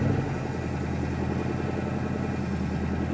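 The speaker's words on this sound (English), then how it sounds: "And there it tried to rev again." A 1963 Chevrolet Impala SS engine, apparently starved for fuel, runs roughly close by, a steady rumbling idle with a faint uneven surge as it struggles to rev.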